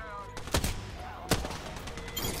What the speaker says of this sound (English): I missed that shot.